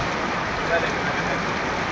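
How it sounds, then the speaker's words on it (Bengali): Dense, steady rain hisses continuously on a surface, a loud unbroken wash of drops with no pauses. "বৃষ্টি হচ্ছে বিশাল আকারে"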